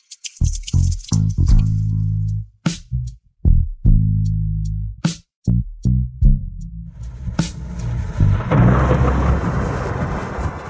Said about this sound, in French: Il pleut vraiment.